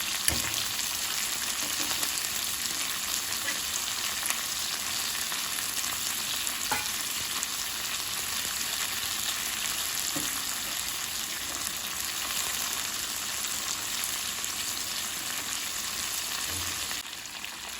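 Cluster bean (gavar) curry fries in a pan tempered with asafoetida and turmeric, giving a continuous close sizzle with occasional faint scrapes of stirring.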